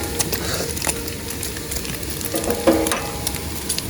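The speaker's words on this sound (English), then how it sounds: "Listen to the sizzle." Bacon and eggs sizzle in a hot pan with a constant crackle, joined by occasional scraping and stirring.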